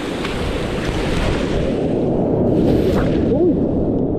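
Ocean waves surging and crashing against a dangerous rocky shoreline, a dense continuous roar of surf and spray with heavy wind buffeting the microphone.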